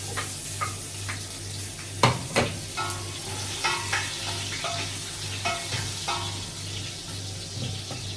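Onions browning in a pan for sinigang na spareribs, with a steady frying sizzle, a few sharp utensil scrapes and clacks from stirring, and a low hum underneath.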